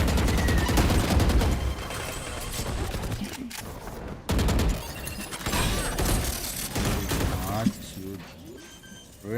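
Shotgun blasts and other gunfire in the Valorant video game crack through a busy, loud mix of game sounds and crowd noise at a competitive esports match, with people talking throughout.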